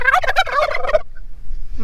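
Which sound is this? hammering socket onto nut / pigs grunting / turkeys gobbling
turkeys gobbling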